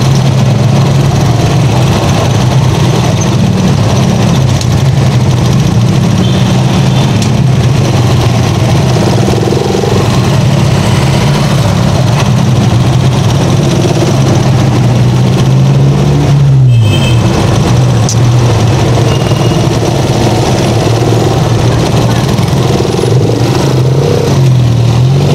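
Busy city-centre traffic in Tuguegarao City, with cars and many motorcycles: loud, continuous engine drone and idling close by, rising into revs as vehicles pull away, with no talking.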